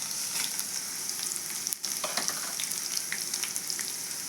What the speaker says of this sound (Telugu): పోపు దినుసులు వేస్తున్నాను